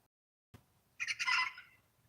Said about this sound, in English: All the chickens are awake.